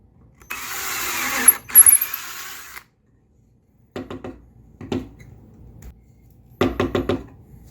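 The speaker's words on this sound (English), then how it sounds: "Oh, we have to drill the orifice." A power drill whirs steadily for about two seconds while drilling a hole in a spinning wheel, then a few short mechanical bursts and knocks follow with pauses between them.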